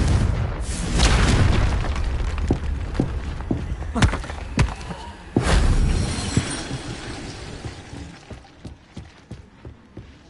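Hogwarts Legacy gameplay in which the Confringo spell sets off booming explosions with shattering crackle. A big blast opens the clip, a second follows midway, and bursts of debris and sharp clattering hits trail off.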